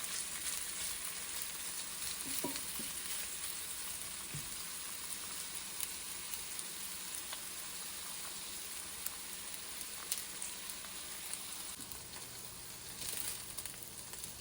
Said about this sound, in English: we are just going to brown up the meatballs since they're already fully cooked